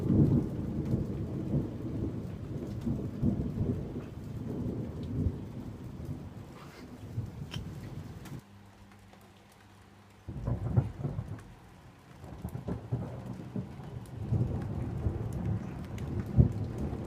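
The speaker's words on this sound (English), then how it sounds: "It's currently a thunderstorm" Rain pours steadily during a thunderstorm while low thunder rolls through it, dropping briefly to a quieter lull before the downpour and rumbling swell back, with no voices.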